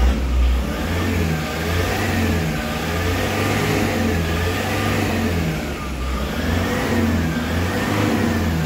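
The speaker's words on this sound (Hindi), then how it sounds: "तो एक्सीलेटर देके दिखाते हैं आपको" A Toyota Innova engine, recently overhauled after a seized piston, revs steadily as the accelerator is pressed, a loud continuous mid-pitched engine drone with slight swells in pitch over several seconds, no talking.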